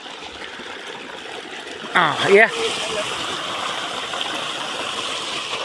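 Irrigation water runs into a summer sesame field, a steady rushing trickle that continues throughout, with a voice cutting in briefly partway through.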